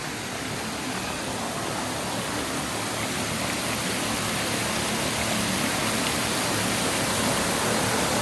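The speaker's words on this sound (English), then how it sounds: "And we'll just kind of spin around with the waterfall here." A waterfall pours steadily outdoors, a broad, even rushing roar of falling water that stays loud and unbroken throughout, with no voices over it.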